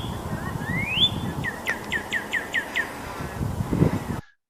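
Northern cardinal song: a rising whistle followed by a series of about seven clear, evenly spaced slurred notes, loud and close against a steady outdoor background hum, with no talking.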